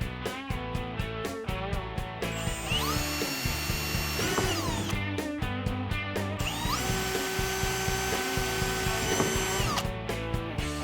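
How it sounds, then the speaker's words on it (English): A power drill runs in long, loud bursts as it bores through the front of an Otter XT PRO X-Over sled, its motor whine rising and falling, with a rhythmic rattling beneath. "We are going to drill there."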